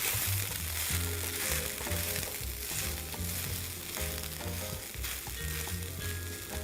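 Vegan ground round fries over medium heat in a hot pan, giving a continuous close sizzle with crackles and occasional stirring, steady and unbroken throughout, with no voices.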